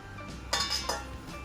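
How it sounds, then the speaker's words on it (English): A couple of clinks from a knife and apple pieces dropping into a bowl while home-made applesauce is prepared in a kitchen, two bright knocks close together over quiet room tone. "So now I'm gonna just take a knife, quarter it, put it in a bowl."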